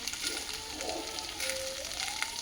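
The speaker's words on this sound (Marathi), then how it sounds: "याला असं छान असं फ्राय करून घेऊयात" Turmeric and spices frying in a pan for a cabbage samosa filling, giving a steady close sizzle with faint crackles throughout and no voice.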